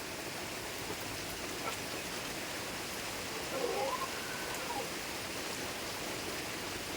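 Soft, steady rain hisses evenly throughout in the rural Philippine countryside, faint and continuous, with no voices.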